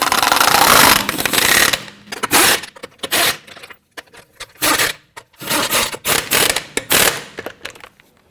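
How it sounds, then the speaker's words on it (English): Lug nuts threaded by hand onto the wheel studs of a 2011-2015 Kia Sorento, giving a run of close metallic clinks, scrapes and short spinning rattles in separate bursts with quiet gaps between. "I'm going to go ahead and install the lug nuts. I want to go ahead and start all of these by hand"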